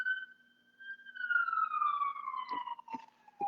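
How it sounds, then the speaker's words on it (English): A fire engine or ambulance siren wails with a steady falling tone, moderately distant and continuous, with a few sharp knocks near the end. "Oh, that sounds like fire or ambulance."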